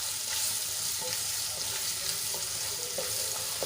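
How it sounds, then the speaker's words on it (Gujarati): Finely chopped onions fry in a pan with gram flour, giving a steady, loud sizzle with occasional stirring scrapes and soft clicks. "ડુંગળીને આપણે ગુલાબી રંગની થાય ત્યાં સુધી સાંતળી લેવાની છે"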